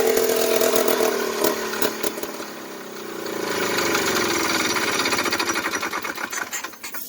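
A 139cc two-stroke engine with a CVT transmission fires up for the first time, buzzing loud and close, then revving with a rising, wavering drone and sputtering unevenly near the end.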